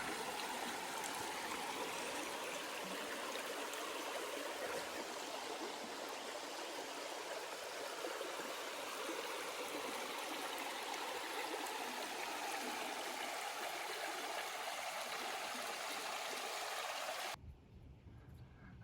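A stream flows along the Appalachian Trail in Massachusetts, a steady close rushing and burbling that runs unbroken for about seventeen seconds before cutting off abruptly.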